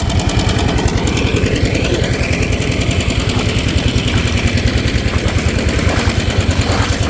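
A farm machine engine, hard to start and needing a spark, runs during rice field work, its loud, close, steady rapid chugging pulsing evenly throughout without talk.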